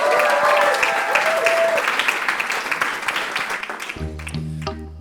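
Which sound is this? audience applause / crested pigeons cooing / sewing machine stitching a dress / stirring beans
audience applause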